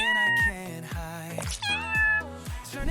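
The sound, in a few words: cat meowing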